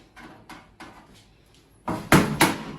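Flathead screwdriver struck with a hammer to knock out metal knockouts on a range hood during a cabinet install: several soft, evenly spaced taps, then two or three louder, sharper metallic blows close by.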